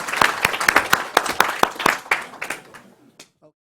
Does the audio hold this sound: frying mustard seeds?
no